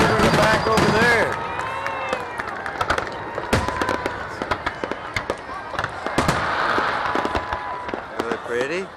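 Fireworks at the Bay City fireworks show burst in a rapid series of booms and crackles, some with whistling or spinning streaks. A crowd murmurs and people talk throughout.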